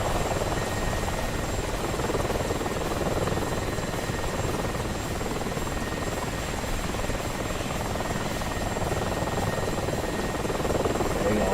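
Ka-50 and Mi-24 attack helicopters in the DCS World combat flight game, a loud, unbroken rotor and engine drone that holds steady throughout.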